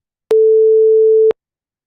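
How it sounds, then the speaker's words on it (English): A synthesized 440 Hz pure sine tone played back at 8,000 samples per second: a single steady, sharp beep lasting about one second, loud and alone, with abrupt clicks at start and stop. "very odd, very sharp sort of tone because it's only that one frequency component"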